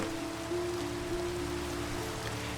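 Rain falls steadily in a video game, a soft continuous patter and hiss with a faint background tone, heard alone with no talking.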